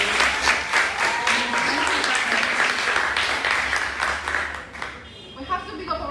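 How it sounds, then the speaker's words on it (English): An audience at a school debate competition final applauds warmly, a dense, steady round of clapping that fades near the end as a voice resumes speaking. "Please, a round of applause for Daniel."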